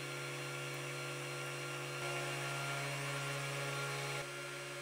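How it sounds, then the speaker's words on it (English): A high-pitched spindle whines steadily with a constant hum, a CNC 3018Pro drilling a circuit board continuously at too high a speed, with a slight shift partway through. "the first hole is drilled with a too high speed"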